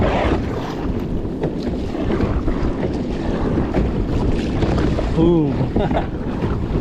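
Steady, strong wind buffeting the microphone with a constant low roar, water splashing around a kayak at sea, and a brief voice near the end.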